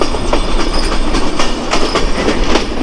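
The Madhumati Express rolls into Rajbari railway station, a loud close rumble of wheels with rhythmic clickety-clack over rail joints and faint squeals, heard from on board with no talk.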